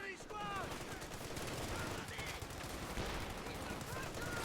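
M1919A6 light machine guns fire bursts of gunfire in a Company of Heroes 2 battle, layered with other shots and explosions in the game mix, while a commentator talks over the action.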